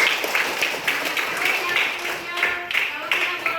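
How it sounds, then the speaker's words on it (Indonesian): A classroom of students claps together in a burst of scattered hand claps, uneven and fairly close, with voices mixed in among the applause. "Tepuk tangan dulu"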